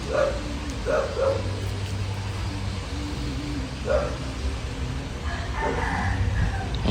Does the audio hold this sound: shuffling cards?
no